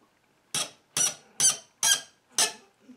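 A brass supply line fitting on a toilet squeaks as the metal deforms under a wrench, five sharp, close squeals in an even rhythm, about half a second apart, with a fainter sixth at the end.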